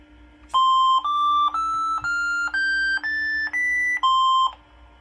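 An IBM PCjr running a BASIC PLAY program beeps out a rising C-to-C major scale: eight clean electronic square-wave tones, each about half a second long, evenly spaced and loud against a faint hum.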